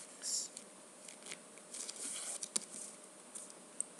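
Paper being folded and creased for an origami scorpion, with soft close crinkles, rustles and light taps scattered across a quiet room, no voice heard.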